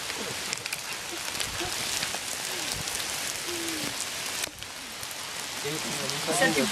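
Rain and hail fall steadily at Le Pertuiset, a dense broadband patter that stays loud and even throughout, with voices talking faintly in the background.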